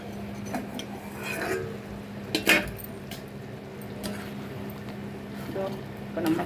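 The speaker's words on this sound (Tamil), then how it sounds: "அடுப்பை சிம்மில் வச்சுட்டு ப்ளேட்டை போட்டு மூடி வச்சுருவோம்" Cooking a low-oil mushroom gravy on a simmering stove, with a metal plate set over the pan as a lid, giving a couple of sharp clinks among soft clatter and bubbling while a person talks.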